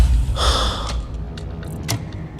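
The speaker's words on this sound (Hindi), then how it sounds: "भागते भागते उसकी सांसें हांफने लगी थी।" A running woman gasps once sharply, a loud, near, breathy intake followed by faint ragged panting and small clicks, no speech.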